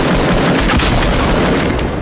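Rocket launcher fire in a shooter video game makes a loud, dense roaring blast that fills the whole short moment without a break.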